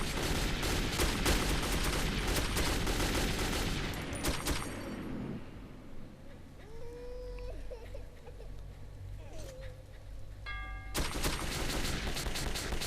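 Gunfire from the video game Metro 2033 bursts in dense volleys at the start and end, with quieter stretches of game ambience and short electronic tones between them.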